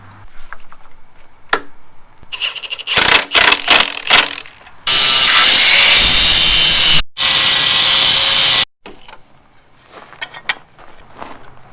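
A ratchet bolting down parts of a welded cradle cart in a shop, heard as bursts of rapid clicking and a couple of long, loud harsh stretches, with quieter scattered clicks before and after.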